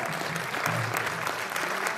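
An audience at a lifetime achievement award ceremony applauds steadily, dense clapping filling the space evenly for a couple of seconds.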